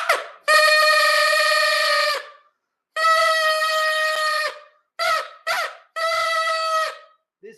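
Two drinking straws held together in the mouth and blown, producing loud, honking harmonic blasts that mimic a train or truck horn: two long tones, then two short ones and a final long tone, with no talking.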